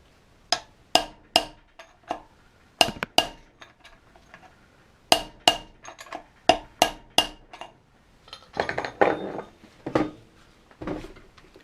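Sharp metallic hammer blows strike in irregular bursts while driving out a car wheel bearing, some in quick pairs or triplets, with short scraping knocks between them, close and loud.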